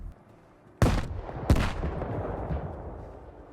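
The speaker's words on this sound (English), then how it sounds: "Not every day you hear an explosion, then have your enemies just suddenly disappear" In S.T.A.L.K.E.R. 2: Heart of Chernobyl, two sharp explosive blasts go off in quick succession, each followed by a rumbling decay.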